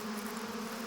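Male bees buzz in the early spring air, a steady, continuous drone with a strong low hum, fairly faint and unbroken throughout, with no voices.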